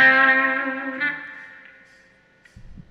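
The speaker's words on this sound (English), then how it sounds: "got the guitar on the bridge position in humbucker mode" Epiphone Zephyr electric guitar on the bridge humbucker, played through reverb: a strummed chord rings out and decays with reverb wash, a second softer accent, then a faint low thump near the end.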